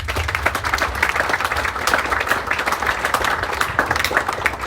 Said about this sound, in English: Let us give our faculty, our staff, and our DMA tactical officers a warm round of applause.